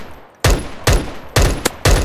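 Gunfire in a zombie shooting video game: four loud, evenly spaced bursts of shots with a brief crack between them, close and sharp over quiet background.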